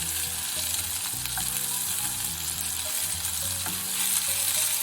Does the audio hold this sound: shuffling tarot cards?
no